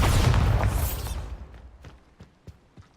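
Bombarda explosion spell cast in Hogwarts Legacy, a loud close blast that rumbles for about a second before decaying into sparse crackles and small debris pops, with no talking.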